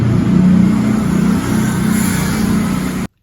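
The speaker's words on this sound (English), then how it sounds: "there's a ton of traffic noise." Paris city street traffic, a steady wash of car engines passing and idling at moderate distance, continuous for a few seconds before cutting off abruptly.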